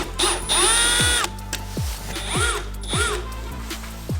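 A Milwaukee power drill backs out Phillips screws on a turbo Miata, with several short whirring bursts and ratcheting clicks that wind up and spin down, close and fairly loud, with no talking.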